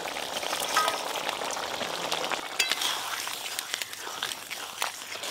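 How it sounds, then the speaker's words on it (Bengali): Fried river mola fish added to a spicy curry with potato and eggplant in a hot pan, giving a continuous crackling sizzle with bursts of spattering and stirring, close and fairly loud. "এবার দেব এক থালা ভেজে রাখা মাছ।"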